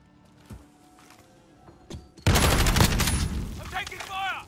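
Gunfire in Call of Duty Modern Warfare erupts in a loud, sustained burst of automatic shots after a few scattered distant thuds, with a voice speaking over the tail end of the firefight.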